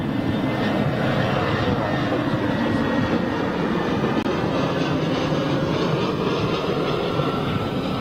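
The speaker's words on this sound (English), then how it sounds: "Wow, long flare. Lots of aero braking going on there." Jet airliner touching down after a long flare, holding its nose high for aerodynamic braking; a steady, broad roar of engine and airflow fills the whole stretch at moderate distance, with no voices.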